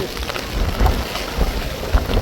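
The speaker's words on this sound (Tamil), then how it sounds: "இதுவரை நான் பார்க்காத மழை இந்த வருஷம் வந்து பேஞ்சிருக்குங்க" Steady, dense rain pours down in Thoothukudi, India, in a continuous wash of noise, with no voices, just the constant patter and hiss of a heavy downpour.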